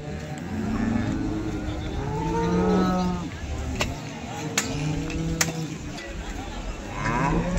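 Cattle moo repeatedly at a busy livestock market in Modnimb, several overlapping calls near and farther off, with crowd noise and occasional clanks throughout.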